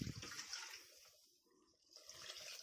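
Water poured into a small metal tempering pan and swirled around while cooking drumstick and eggplant sambar, a steady close splashing that dips briefly in the middle before resuming.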